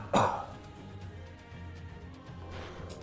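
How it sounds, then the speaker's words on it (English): A single sharp, close throat clear with a cough at the start, followed by quiet room noise and a faint rustle near the end. "Apologies for the coughing again."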